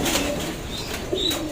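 Pigeons give soft, low coos against a quiet background hiss, with a few brief calls spaced out over a moment.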